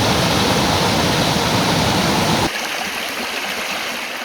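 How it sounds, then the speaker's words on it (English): Floodwater rushes through a drainage creek on rural Australian land, a loud, dense torrent roar that drops sharply partway through to a quieter, steady flow. "we have torrents running through this property, straight through the drainage creeks and straight off the land"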